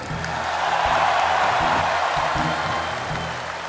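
Large political rally crowd applauding and cheering in a broad, sustained roar that swells and then eases slightly, with scattered voices mixed in.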